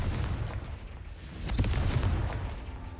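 Confringo fire spell in Hogwarts Legacy bursting in a rumbling, booming explosion with a couple of sharp cracks, loud and close, over a continuous low roar.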